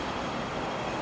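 Hong Kong tram running, a steady, dense rumble of wheels and cabin noise with no distinct breaks and no voices.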